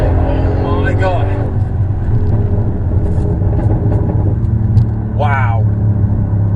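A modded 713 bhp Audi RS6 wagon accelerates hard in third gear onto a slip road, with a deep, steady engine rumble throughout. A voice exclaims loudly over it near the start and again near the end.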